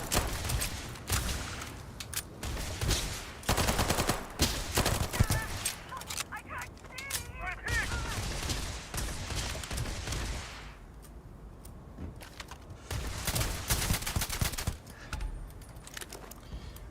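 Gunfire in Starfield, played in survival mode: dense bursts of rapid shots and impacts come in waves with brief lulls, loud and close, mixed with game effects.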